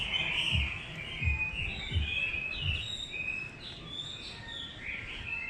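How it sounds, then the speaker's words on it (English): Many birds chirp and twitter together in overlapping bursts, a busy flock calling from trees nearby. "But there's obviously a bunch of birds here"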